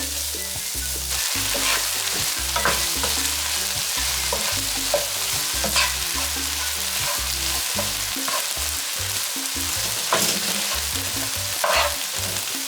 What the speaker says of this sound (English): Once the oil is hot, add the peppers and onion and sauté for about 2 minutes.